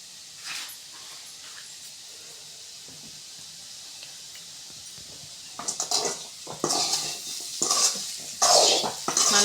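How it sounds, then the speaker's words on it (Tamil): Potato fry being stirred in a pan, with a soft hiss at first, then a burst of scraping and clinking utensil strokes toward the end, close and fairly loud. "நல்லா கிளறி விட்டுக்கோங்க."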